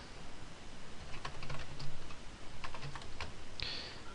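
Fingers typing a command on a computer keyboard, a quick irregular run of light clicking keystrokes close up against faint background hiss, with no one talking.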